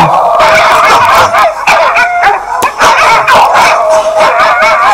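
Several dogs bark and yip loudly and repeatedly, with some howling and whimpering mixed in, close by and continuous.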